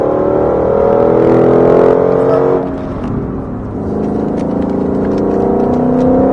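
Car engine pulling hard under full throttle on a driving course, a loud close roar that climbs in pitch, dips briefly at a gear change, then rises again.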